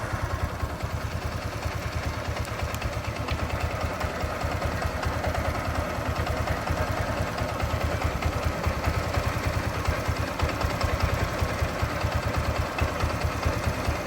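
A motorcycle engine runs close by with a steady, loud, throbbing drone and fast rhythmic pulsing, holding a fairly even level throughout with no other sounds on top.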